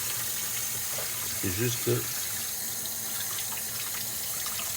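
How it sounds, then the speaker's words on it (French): Tap water runs steadily from a kitchen faucet while chicken escalopes are rinsed beneath it, a continuous soft hiss throughout, with a brief spoken phrase near the middle. "Je les passe rapidement sous l'eau."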